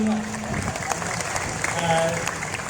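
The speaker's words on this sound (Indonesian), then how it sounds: "Kita tepuk tangan semua meskipun kita tidak paham apa yang dia bilang." Applause from an audience at a Maulid Nabi Muhammad SAW gathering, a steady, moderately loud wash of clapping throughout, with speech and a voice over it.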